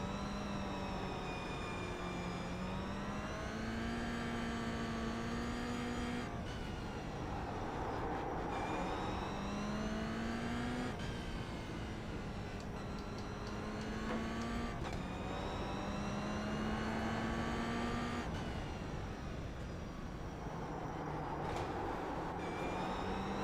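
Racing car engines roar together at a race start in a racing simulator game, a steady droning pack whose pitch climbs repeatedly and then drops with each gear change, loud and continuous with no talking.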